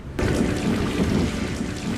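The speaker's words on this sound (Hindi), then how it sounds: "मॉनसून की रिमझिम बारिश हमें चिलचिलाती गर्मी से राहत तो दिलाती है" Monsoon rain and thunder begin abruptly and continue as a dense, loud rumbling wash with steady rainfall, with no voices over it.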